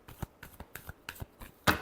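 Tarot cards being shuffled in the hands during a reading, a string of soft riffling bursts at an uneven rhythm, ending in a louder, fuller riffle; close and quiet with no talk.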